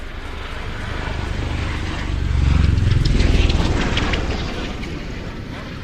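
An Osprey tiltrotor aircraft at an airshow, a broad low rotor-and-engine roar swelling to a peak midway and easing off again, heard at a distance with faint background noise.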